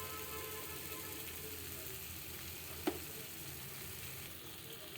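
Paneer frying in a pan as cream goes in, a soft, steady sizzle kept low and even, with one sharp knock near the middle.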